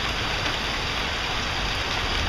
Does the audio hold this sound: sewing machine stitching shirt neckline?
no